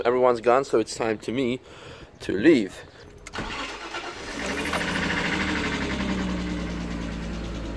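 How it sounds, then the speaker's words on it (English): Someone talks briefly, then a car engine cranks and fires into a steady idle, close and continuous, with the engine starting at a race circuit. "That's the sound of a car that is alive."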